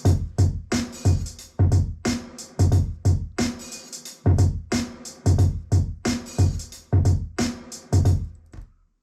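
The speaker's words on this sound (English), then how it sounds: "And then your kick drum." A hip hop beat plays alone, with a loud, punchy kick drum hitting in a steady repeating rhythm alongside reverb-heavy snare hits.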